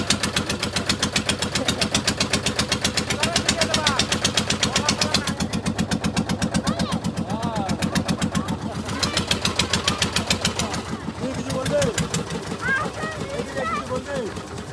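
A boat's engine chugs steadily throughout on a foggy river trip, a loud, even, rapid knocking rhythm close by, with voices talking over it at times.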